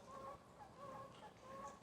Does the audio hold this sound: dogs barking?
no